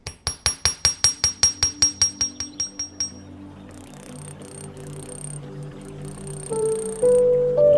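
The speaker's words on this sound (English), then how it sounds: "I'm not going to hammer extensively up here, but as I come down, it'll be more and more flat and widened out" Copper wire spiral being flattened with a hammer: about fifteen sharp, evenly spaced metallic strikes ring out close and clear, then stop, leaving quiet handling noises and a faint clatter.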